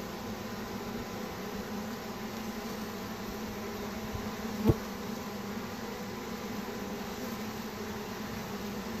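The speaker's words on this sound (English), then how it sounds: "there's a fair amount of bees here" A steady, dense buzzing of many bees hums continuously, with one brief louder knock partway through.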